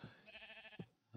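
A single Minecraft sheep bleat, wavering and drawn out, plays quietly with a brief thump near its end.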